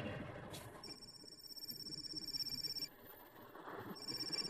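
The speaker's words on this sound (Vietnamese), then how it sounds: "Điện thoại kìa, không nghe hả?" A telephone rings quietly in an indoor setting, a high electronic trill that repeats in two bursts separated by a short pause.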